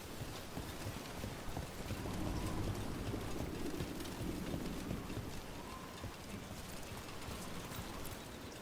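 Steady patter of rain in Dragon Age: The Veilguard, a soft continuous hiss with scattered drops and a faint low rumble swelling briefly, quiet and without talk.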